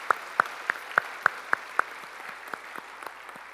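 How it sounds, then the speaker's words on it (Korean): A church congregation claps in unison during a Sunday worship service, seven sharp, evenly spaced claps that then fade into softer, scattered claps. "우리 주님께 영광의 박수 올리시겠습니다"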